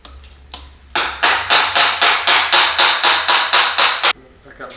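A hammer striking a chisel to knock out a screw holding the bracket of an explosion-proof aluminum LED drop light, with about a dozen loud, close, evenly spaced metallic blows after a quiet start.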